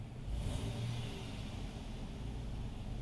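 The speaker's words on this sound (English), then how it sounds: "Let's rev it up." A car engine with very high fuel trims, suspected of a failing low-pressure fuel pump, revs up in a workshop, giving a steady, fairly loud engine drone with no talking.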